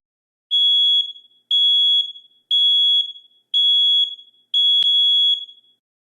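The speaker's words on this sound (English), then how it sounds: "this is the 3 beep. So this is going to be like you have smoke or something that's caused the alarm to activate" A smoke alarm sounds its alarm pattern, five loud, piercing, identical beeps about one second apart, close and alone with silence between them.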